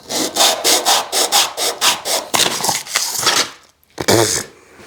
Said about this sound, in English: If this really is the only way that you can think to sand your rings